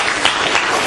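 An audience at a real estate finance industry seminar claps in a dense, continuous burst of applause, loud and close, with no voices standing out.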